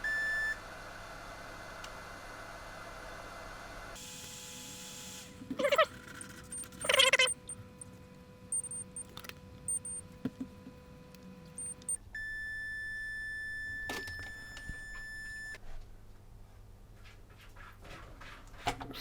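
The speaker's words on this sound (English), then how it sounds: "This will beep if they're touching." A faint continuity tester emits steady high beeps, a few seconds long each, amid soft tapping and handling noises while checking a corroded Xbox One S.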